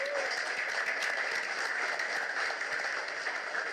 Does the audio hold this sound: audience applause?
yes